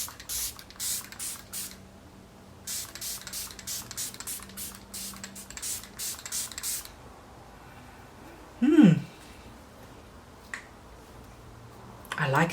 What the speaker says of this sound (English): like a fountain, just a spray on your face.